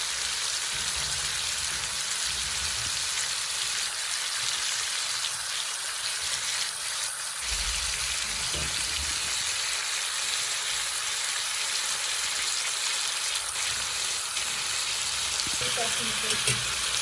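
Ingredients for chicken thukpa fry in a pan with a steady, loud sizzle and crackle that runs throughout, with occasional stirring scrapes and no voice over it.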